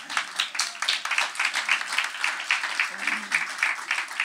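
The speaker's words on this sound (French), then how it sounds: "Vous pouvez l'applaudir d'ailleurs" Conference audience applauding the founder of a software project, a short burst of brisk, dense clapping that holds steady throughout.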